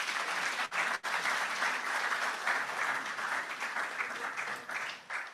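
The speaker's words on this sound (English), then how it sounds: "please give him a round of applause" An audience at an entrepreneurship policy dialogue bursts into applause, a full, even wash of clapping with a couple of brief dips near the start, then holding steady before easing slightly at the end.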